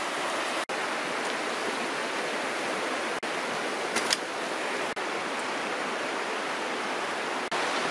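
North Fork Skokomish River rushing past on a winter trail, a loud, steady broadband wash of flowing water close by, broken only by a few brief dropouts.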